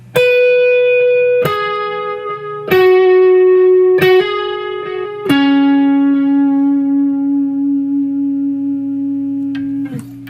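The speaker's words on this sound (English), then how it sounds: "So with a little bit of overdrive and delay" Electric guitar on the neck pickup with light overdrive and delay plays a slow melody of a few sustained notes, each attack ringing out with trailing echoes, ending on a long held tone.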